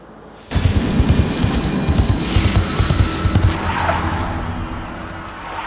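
A car driven fast along a forest road at dusk, its engine roaring loud and close with tires rumbling over the rough surface, starting abruptly after a brief quiet moment and holding steady throughout.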